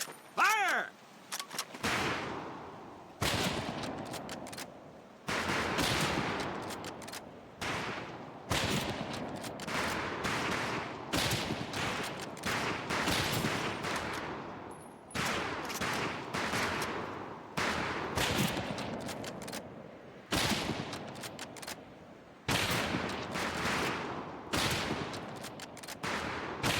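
Rifle fire on a shooting range in Medal of Honor Pacific Assault: dense, overlapping gunshots crack in rapid bursts, separated by brief pauses, loud and close throughout.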